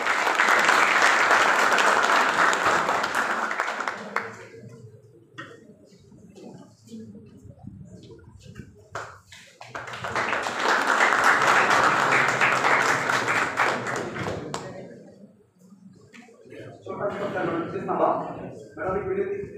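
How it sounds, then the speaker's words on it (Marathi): A school anniversary ceremony audience applauds loudly in two long sustained bursts of dense clapping, with quieter gaps between them and a voice speaking through the hall. "त्या जोरदार टाळ्या वाजवा."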